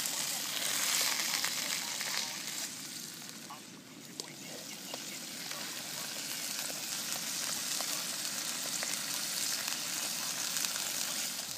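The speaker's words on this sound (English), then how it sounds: "Right, sausages are more or less done now." Sausages frying in a pan over a camp stove at a wild camp in the Peak District hills, a steady close sizzle and crackle running without a break, with someone speaking over it.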